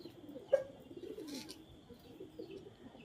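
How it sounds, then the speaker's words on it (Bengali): A pigeon coos softly and fairly close in a quiet outdoor setting, with a faint low warble and one brief sharper note near the start. "বাদশাহ আমার কিং এর পায়রাটা, একদম কিং পায়রা।"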